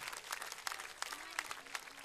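A concert audience gives a brief round of applause for a Sardinian tenor singing group, faint scattered claps in an open space.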